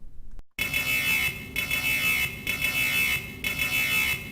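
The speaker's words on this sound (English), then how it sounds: "Listen to an alarm message sample." A facility fire alarm at a pulp storage plant sounds a loud, steady electronic tone in repeated bursts, each broken by a brief gap of silence, with no voices present.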